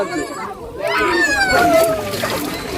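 Someone dunks into water while bathing during a Shraavan month ritual, giving a sloshing splash heard under close, overlapping talk from adults and a child.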